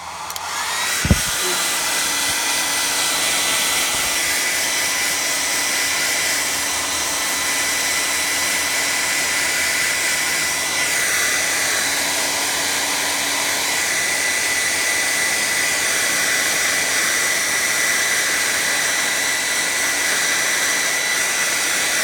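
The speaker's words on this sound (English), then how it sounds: "So I blow dry it until it becomes like a little pliable" A hair dryer blows steadily and close, warming door and window repair material until it softens; a brief knock sounds near the start, then the airflow drones on alone at an even level.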